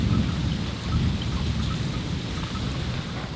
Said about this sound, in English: So it's just steadily raining.